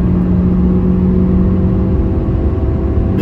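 A 2021 Honda Civic Eco Elegance with a CVT gearbox revs high and steadily under load while climbing a hill at speed, a loud, sustained engine drone with a constant whine and no talk over it.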